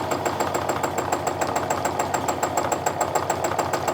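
Quilting machine stitching a holly leaf background design, running in a steady fast rhythmic hum with regular needle pulses, near and constant throughout with no talking.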